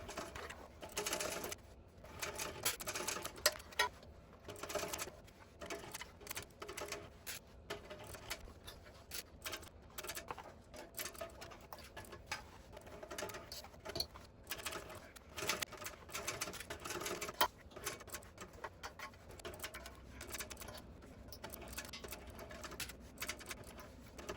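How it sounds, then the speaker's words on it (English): A sewing machine runs along a tote bag seam, back stitching at the start and end, its needle chattering in quick rhythmic bursts broken by short pauses, close and steady with no talk. "I'm going to back stitch at the beginning and the end of the seam"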